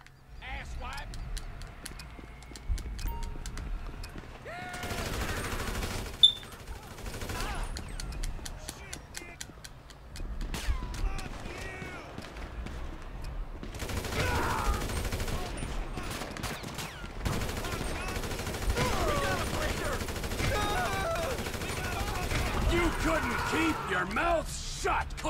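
Grand Theft Auto V gunfire crackles in sharp bursts and rapid volleys, alternating with brief lulls and game noise, while a player talks over the action.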